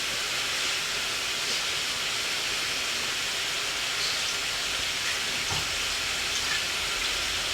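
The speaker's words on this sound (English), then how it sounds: "You need that to be sizzling." A steak sears in a very hot pan, giving a loud, steady hiss that holds evenly from start to finish with no break.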